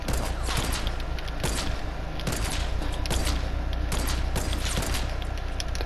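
Sniper rifle shots in the video game Fortnite, several loud cracks spaced roughly a second apart over a steady, dense wash of game noise and rumble.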